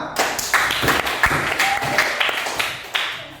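Schoolchildren applauding in an elementary classroom after a group is named first-place winner, brisk scattered claps from a small group, fairly close, with a few louder individual hand claps standing out.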